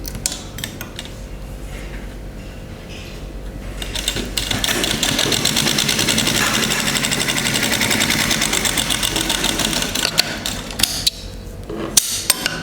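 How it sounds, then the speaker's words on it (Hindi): A sewing machine stitches a folded fabric strip for a kurti, running loud and steady with a knocking mechanical rhythm that builds after a few seconds and stops near the end. "1/4 पे रेडी कर लीजिए इसको और यहाँ पे एक सिलाई दे दीजिए"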